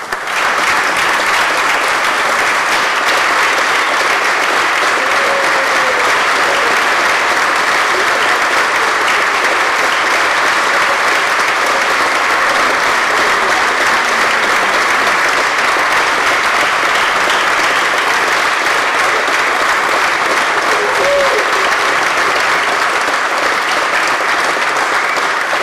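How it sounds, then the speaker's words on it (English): Senators in the New York State Senate chamber give a standing ovation, a loud, dense, sustained wash of clapping that holds steady for nearly half a minute with a few faint voices underneath. "please rise and give these ladies and gentlemen a very big round of applause"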